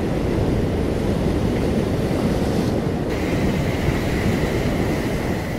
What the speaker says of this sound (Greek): αυτά τα εντυπωσιακά κύματα στην παραλία